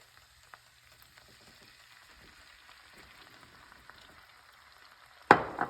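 Onion and garlic sautéing in a pan for a white cheese chicken lasagna give a faint, steady sizzle with a few light crackles, ending in a sudden louder burst of frying.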